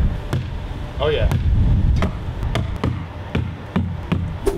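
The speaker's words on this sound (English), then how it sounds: "You get this really cool bass sound like this." An upside-down plastic trash container is struck like a drum, giving a string of deep, hollow bass thumps in an uneven beat. A voice briefly speaks over the hits.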